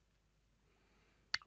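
A single sharp keypress near the end of a quiet stretch, the Enter key struck once on a computer keyboard while a Linux desktop environment installs; brief click with a short tail, otherwise near silence.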